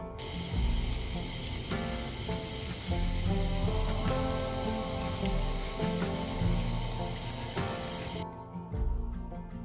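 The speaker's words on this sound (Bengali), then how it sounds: "সাথে ঝিঝি পোকার ডাক।" Dense, continuous chirping of crickets fills the night air at a riverside retreat, steady and close, layered over a soft background hum of other tones.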